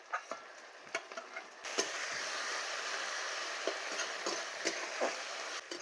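Tomato paste sizzling in a pan with garlic and ginger paste for a croaker fish curry. A steady, moderately loud fry hiss builds after a few sharp stirring clicks and continues with occasional spoon knocks.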